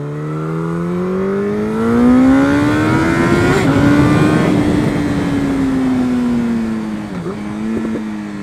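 Yamaha FZ8 motorcycle engine revving up and pulling away from a gas station, a loud, close rising engine note that climbs steadily, holds, and dips briefly with a gear change before continuing.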